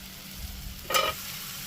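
Boiled taro stolons drop into a frying spice mix in oil, a brief rush of sizzling that flares up sharply over a low steady background and then settles, close by with no talking.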